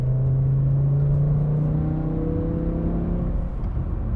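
BMW E60 M5 engine running as a sustained rumbling drone with a steady pitch that shifts slightly, loud and continuous with no voices over it.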